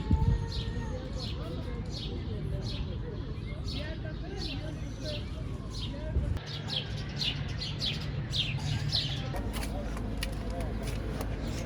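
Small birds chirp in a mulberry tree with ripe fruit, giving repeated short, bright tweets at a moderate distance over a steady background hum.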